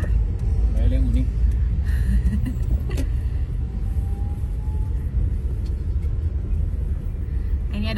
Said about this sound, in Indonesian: Ini ada bis nih